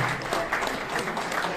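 Audience in a hall clapping at an art competition event, a steady burst of applause from a gathered crowd with faint voices mixed in underneath.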